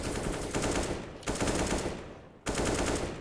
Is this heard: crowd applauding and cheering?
no